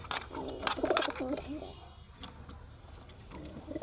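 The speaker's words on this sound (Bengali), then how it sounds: "এই যে আমার সেই আলোচিত কবুতর জোড়া" A pair of pigeons kept in a small space coo softly nearby in a few low, throaty bursts, with faint rustling and a quiet, close background.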